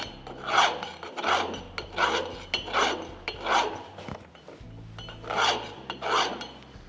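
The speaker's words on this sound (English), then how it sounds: "you can take your half round bastard file" A half round bastard file rasps across a metal welding spool piece in about nine distinct strokes, each a crisp scraping push with short pauses between, close and fairly loud with no talk.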